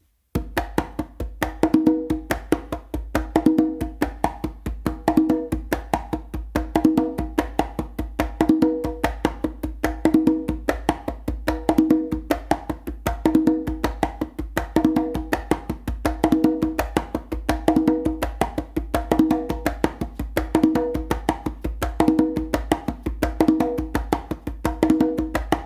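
A tumbao warm-up exercise played straight through without pausing: steady, evenly repeating percussive strokes in a tight looping rhythm, close and clear with no talking.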